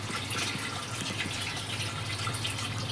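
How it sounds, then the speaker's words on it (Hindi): Slow trickle of water from a submersible pump filling a water tank, a soft steady splashing and hiss that continues evenly and faintly without pause. "समरसीबल होने के बाद भी इतना मंदा पानी आता है"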